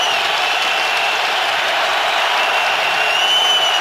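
Steady, dense roar of a large stadium crowd at an NFL AFC Championship game in Foxborough, Jaguars at Patriots, sustained and loud throughout with no break.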